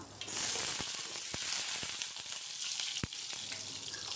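Small shallots and a handful of garlic cloves sizzle steadily in hot oil over a medium flame, a continuous crackling fry punctuated by a few sharp pops and light stirring clicks, with no talking.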